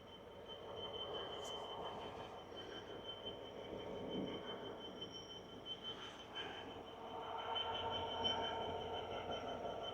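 A long train rumbles past steadily over a bridge with faint metallic wheel squeals and clatter, sounding somewhat distant and fairly quiet throughout.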